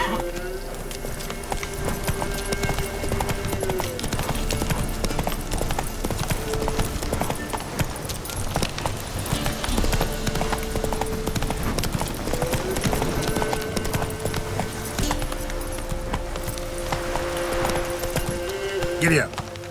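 Horse hooves clip-clop at a steady trotting rhythm in The Witcher 3, close and continuous, mixed with game ambience while a voice speaks now and then.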